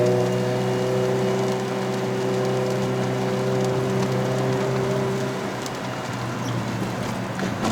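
Steady rain drums on a Suzuki Swift Sport ZC31S with a 1.6-litre five-speed manual engine while it drives on a wet, foggy mountain road in Malaysia. The rain is loud and continuous, with a low engine hum running underneath.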